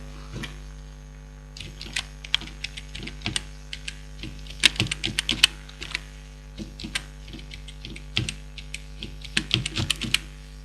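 Rapid keyboard typing of a password in bursts, crisp key clicks clustered irregularly over a steady low hum, close and fairly quiet.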